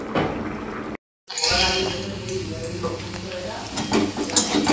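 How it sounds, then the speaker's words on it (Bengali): Bitter gourd fries in a pan of oil with a steady, loud sizzle and occasional stirring scrapes. The sound runs continuously after a brief silent gap near the start. "এখানে উচ্ছে ভেজে নিচ্ছি।"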